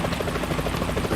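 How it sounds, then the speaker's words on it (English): A helicopter in the video game Metal Gear Solid 2 gives a brief, steady rotor thudding with a rapid whirring chop, loud and alone. "Is that a chopper I just heard?"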